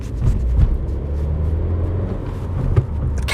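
A Suzuki Vitara with a Boosterjet engine pulling away in first gear, a steady low engine rumble rising and falling slightly as it drives, heard from inside the cabin.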